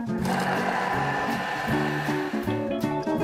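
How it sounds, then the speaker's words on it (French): Thermomix TM5 blending onion, garlic, parsley and Paris mushrooms in its bowl, a loud steady motor whir with shifting pitch steps as the blades chop, running continuously throughout. "On va refermer et mixer tout ça."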